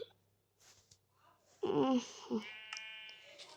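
A few thin, wavering bleats from a newborn lamb, close by, with brief quiet moments and faint background murmur.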